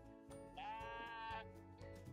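A sheep lets out a single clear, wavering bleat at moderate loudness, with quiet background sounds before and after it.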